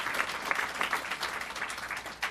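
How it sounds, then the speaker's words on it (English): Steady applause from an audience at a citizenship call-in event honoring the governor of New York, a dense wash of many hands clapping continuously at moderate loudness, with no voices over it. "Another round of applause for the great governor of New York State, Governor Andrew Cuomo."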